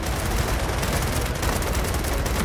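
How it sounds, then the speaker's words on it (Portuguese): Dense, continuous gunfire from the video game Gears of War 4 rattles loudly throughout, a sustained barrage of overlapping shots and booms with no voices heard. "É um tiro!"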